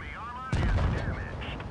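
Tank cannon fire in World of Tanks Blitz, a short tonal sweep followed by a sudden heavy booming blast that rumbles and fades within a second.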